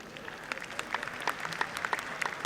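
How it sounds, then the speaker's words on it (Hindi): Audience at a patriotic Independence Day comedy and poetry show in Kolkata applauding, a steady wash of clapping with scattered louder individual claps throughout, moderately distant. "देखिए क्या ताली बजा रहे हैं।"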